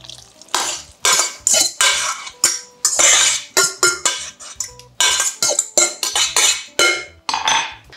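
Vegan pumpkin bread batter being folded by hand in a bowl, wet ingredients worked into the dry flour, giving a series of close, irregular scraping and clinking strokes with brief pauses and no talking.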